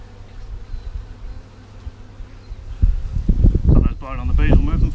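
A low, steady drone of honeybees buzzing at an open hive during an inspection fills the air, then louder rustling, handling noise and a voice come in over it.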